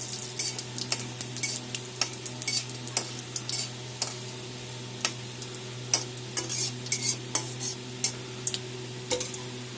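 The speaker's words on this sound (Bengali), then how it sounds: "দিয়ে দিলাম একটা তেজপাতা, একটা শুকনো লঙ্কা আর গোটা জিরা।" Whole spices, a bay leaf, a dried red chilli and cumin seeds, crackle and sizzle in hot oil with a pinch of salt, with steady frying hiss and frequent sharp pops and spatters close by, for a Bengali vegetable dish.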